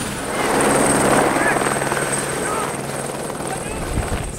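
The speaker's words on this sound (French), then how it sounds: "Get to the chopper!" A helicopter in Corsica, near a rally event, gives a loud, steady rotor and engine roar that holds for the whole stretch, with a voice briefly shouting over it.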